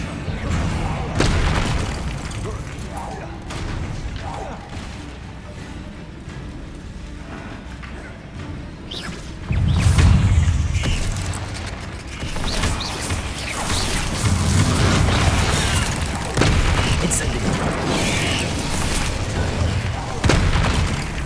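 Confringo and Incendio spells cast in Hogwarts Legacy combat, rolling booming explosions and fiery bursts swelling repeatedly over continuous battle noise, with a voice calling out over them.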